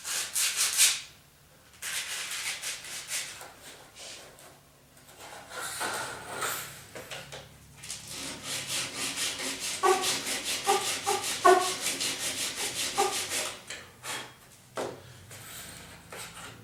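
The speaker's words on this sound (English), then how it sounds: "I'm just going to use my sanding block to get it squared up to about the appropriate area" A sanding block rubs back and forth along the edge of a laminate countertop, near, rhythmic scraping strokes in bursts with short pauses between them, no talking.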